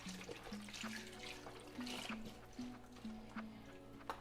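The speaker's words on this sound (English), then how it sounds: "I'm gonna go ahead and take some chicken stock and pour it into my pot." Chicken stock pours and splashes quietly into a pot, soft gurgling and trickling for a few seconds.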